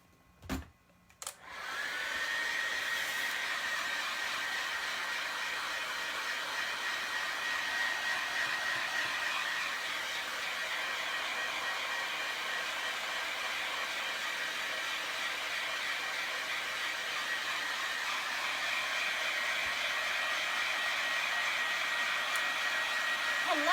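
A hair dryer runs steadily for over twenty seconds, blowing close and loud with a constant whine as it dries an upcycled lavender basket, after a couple of brief knocks at the start.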